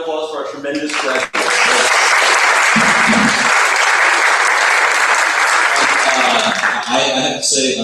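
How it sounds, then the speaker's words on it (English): Congregation at a worship service applauding its graduates: sustained, loud clapping fills most of the stretch, with brief talk before it starts and as it fades at the end. "One more round of applause for our tremendous graduates."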